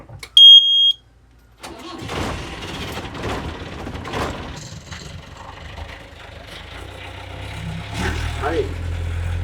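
An old vehicle's engine is started: a brief high beep comes first, then the motor catches and settles into a rough, uneven running rumble, with voices faintly in the background.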